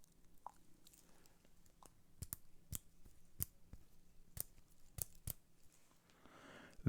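Sharp, sturdy clicks from the polished titanium bezel of a Baltic Aquascaphe watch being rotated, about a dozen crisp close ticks at an uneven pace in a quiet room.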